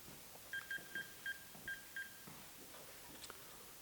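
A telephone is dialed with a run of six short, evenly spaced touch-tone beeps, fairly quiet, followed by faint room noise.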